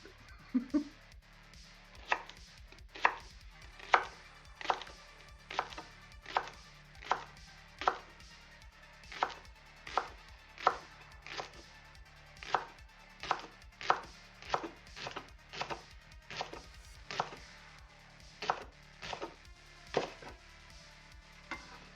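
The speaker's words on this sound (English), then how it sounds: "You can see that I'm just chopping that into discs." Knife chopping leeks into discs on a board for potato and leek soup, a steady run of about twenty-five crisp, evenly spaced chops, close and clear with no talk.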